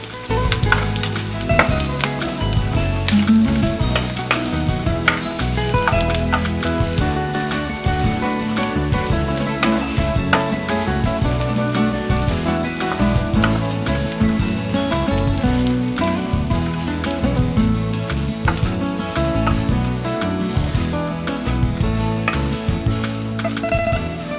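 Anchovies (dilis) fry in hot oil in a pan, a loud, constant crackling sizzle with dense popping that runs steadily throughout without any voices.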